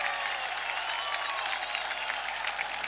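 A studio audience on a Diwali television show claps loudly and continuously, a dense, even roar of applause with no pause.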